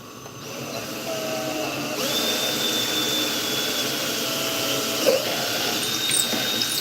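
A power drill fitted with a quarter-inch bit whines steadily while boring a hole during work on a dually truck setup, a close, continuous motor drone that shifts pitch as it loads and lasts the whole stretch.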